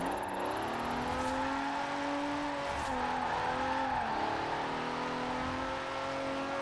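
Ferrari Barchetta engine in a drifting video game, heading downhill: a steady droning engine note with gently rising and falling pitch as it shifts, continuous and moderately loud, with no talk.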